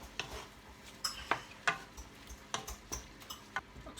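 Greens are stirred into a veggie taco mixture in a pan, with a string of sharp utensil clicks and scrapes at an irregular rhythm over a quiet background.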